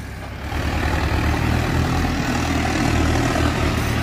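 A Mahindra Novo 655 DI 4x4 tractor engine runs with a steady, loud, low rumble that swells after the first half second and then holds constant and close throughout.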